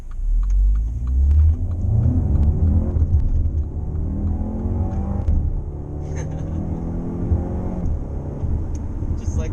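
A 2020 MINI JCW Countryman accelerates up to speed, and its engine note climbs through several rising sweeps under a loud, steady rumble inside the cabin, with a voice talking over it.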